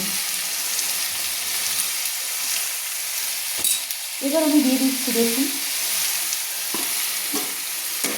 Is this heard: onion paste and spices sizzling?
yes